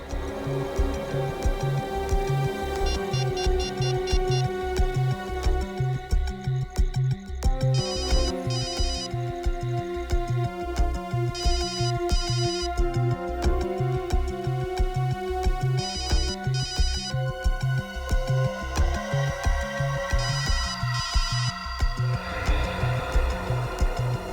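A telephone rings with a steady electronic ringtone, repeating its pattern continuously at an even rhythm, clear and alone without any talking.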